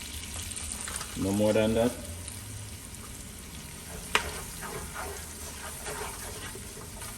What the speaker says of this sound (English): so we're cooking the curry, burning the curry